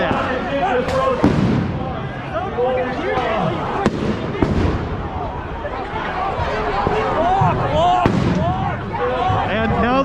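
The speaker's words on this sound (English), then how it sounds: "the flashbangs are going off behind me, and I'm being pushed into them" Police flashbang grenades go off at a street protest, with several sharp bangs cutting through a noisy crowd of shouting voices and continuous commotion.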